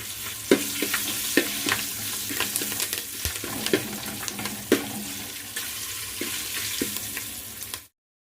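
Curry leaves and slit green chillies sizzle steadily in hot oil, close and fairly loud, with repeated sharp crackles and the scrape of a spoon stirring the pan throughout, no voices.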